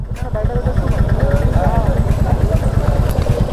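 A motorcycle engine idles steadily and loudly throughout, a continuous throbbing rumble during an Independence Day group ride near a busy cinema, with people talking over it.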